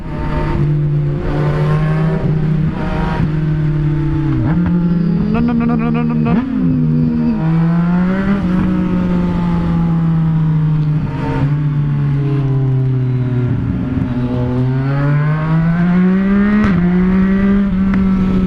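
A sport motorcycle engine revs up and down repeatedly, its exhaust note rising and falling loudly and close by.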